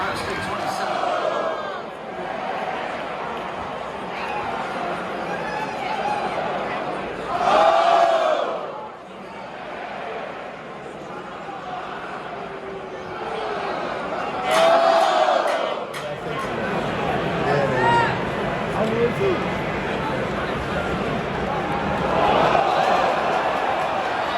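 Home crowd in the stands at an Ohio State vs Northwestern football game at Wrigley Field, loud sustained roar with several swelling bursts of cheering and whoops, under a commentator's voice.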